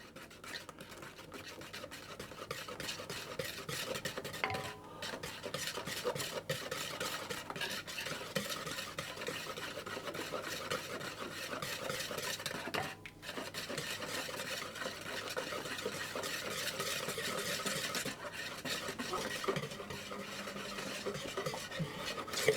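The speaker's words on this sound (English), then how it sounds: "gradually drizzle it into my egg mixture whisking all the time" Egg mixture whisked steadily in a bowl while hot cream is drizzled in to temper it for Boston cream pie filling; a continuous, brisk scraping and swishing runs close and fairly loud throughout, with no talking.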